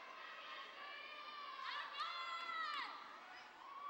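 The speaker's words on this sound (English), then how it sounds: "Crowd's so loud trying to pump them up." Spectators at a cheerleading competition cheer and shout with high-pitched voices, several bright yells rising above a steady background of crowd noise, heard from a distance and fairly faint.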